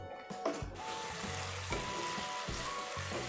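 Chopped tomatoes and cashews stirred together in a hot pan for butter chicken, giving a steady hissing fry with a few dull scraping strokes and low thumps spaced through it, close and fairly quiet.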